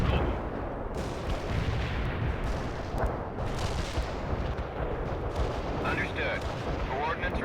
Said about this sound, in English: Artillery firing.